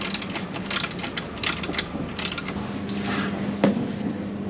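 A hand wrench working on the bolts of a swivel seat in a Promaster van, giving a run of quick, close ratcheting clicks in short bursts over roughly four seconds of mechanical clatter.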